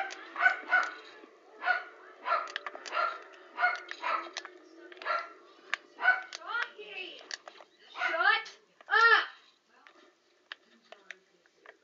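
Dogs bark close by in a quick, rhythmic run of sharp barks and yips. A few longer, rising calls come near the end before it goes quiet.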